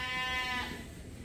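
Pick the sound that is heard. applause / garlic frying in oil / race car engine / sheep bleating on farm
sheep bleating on farm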